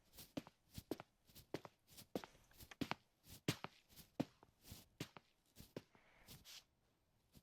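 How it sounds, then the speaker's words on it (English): Foley footsteps paired with recorded rustling of pants and a shirt, a steady run of distinct steps at walking pace, close and fairly quiet, with soft cloth swishes between them and no voices. "Let's take a listen again at our footsteps with our recorded pants and shirt together."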